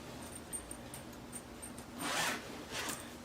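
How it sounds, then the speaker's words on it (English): A zipper is pulled closed on the cover of a Kbest gaming chair during assembly: faint ticks, then two clear, close ripping zips, the longer one first. "We'll just close the bottom zipper."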